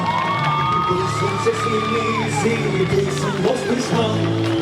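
A crowd at a CHP election victory celebration in Bucak cheers, whoops and shouts loudly and close by, with overlapping voices and yells forming a dense, continuous festive din.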